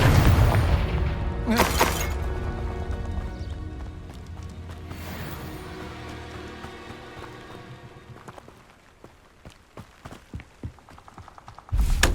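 In the Hogwarts Legacy video game, a Confringo blasting spell goes off with two sharp, loud explosive bursts over a low rumbling game soundscape, followed by scattered smaller crackling impacts.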